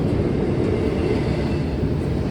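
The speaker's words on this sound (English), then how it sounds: "Oh my god, this is such a long train." A long metro train rolls steadily through Potomac Yard station, a continuous loud rumble of wheels and cars with no break and no voices.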